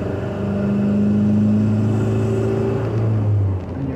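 Toyota with a swapped 1.9L TDI turbo diesel and a GTC2262 mini semi turbo accelerating on an interstate on-ramp, heard from inside the cabin as a steady, loud low engine drone that rises in pitch and eases near the end.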